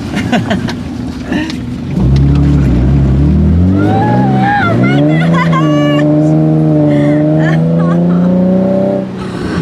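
A Nissan 350Z with Megan test pipes and a Jones resonator is heard from inside the car, its engine and exhaust droning loudly and close, pitch climbing through rising revs before settling into a smooth steady tone.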